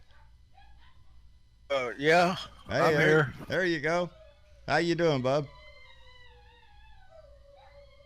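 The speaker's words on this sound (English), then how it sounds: "That's my dogs going nuts in there." Dogs howl and yelp from another room in a house, a faint wavering chorus that carries on under a man's nearby speech and continues alone after he stops.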